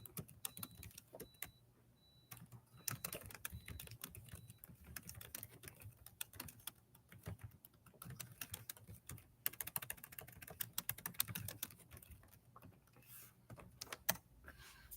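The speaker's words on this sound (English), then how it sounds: "I'll even type it in the chat." Rapid typing on a computer keyboard clatters throughout, uneven bursts of soft close key taps with occasional louder strikes, no voices over it.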